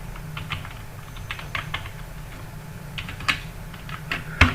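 Keys clatter in short irregular bursts as someone types on a computer keyboard to search in a browser, close and moderately loud with no voices.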